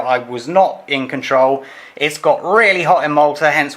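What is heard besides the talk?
None of the usual background noises is heard.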